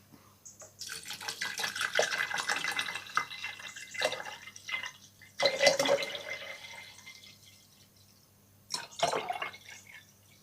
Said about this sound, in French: On va couvrir d'eau.